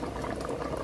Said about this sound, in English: everything is simmering nicely